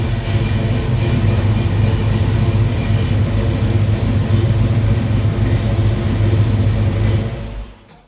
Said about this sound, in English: We'll crank that over and we will get oil pressure and then we'll check it.